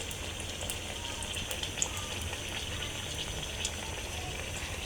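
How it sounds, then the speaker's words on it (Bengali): Pitha dumplings frying in hot oil, flipped from side to side, give a steady, quiet crackle and fine patter of bubbling that holds evenly throughout with no talk. "তো আমি এভাবে এপিট ওপিট করে ভেজে নেব পিঠাগুলো।"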